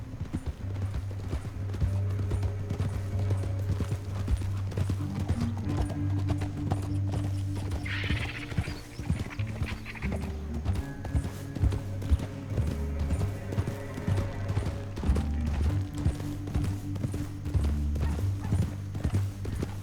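Steady clip-clop of horse hooves at a brisk pace in Red Dead Redemption 2 runs throughout, close and continuous, with an occasional whinny over a low musical rumble.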